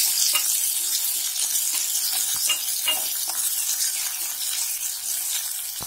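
Onion, capsicum and curry leaves sauté in a pan, a steady close sizzle with soft stirring scrapes and light clinks running throughout.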